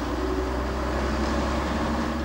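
Trolleybus climbing a grade up to Toll Bar in St Helens, a steady low motor hum and rumble with a faint whine, moderately quiet and unbroken.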